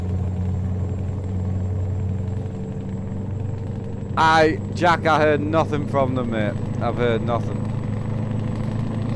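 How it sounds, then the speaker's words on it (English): Steady low engine rumble of a truck driving in the Euro Truck Simulator 2 video game, droning throughout while someone speaks over it partway through. "Love this truck sound."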